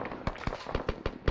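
Sharp, irregular bangs from platoon training where grenades are thrown: about seven quick cracking reports in rapid succession, fairly close and punchy, with no talking over them.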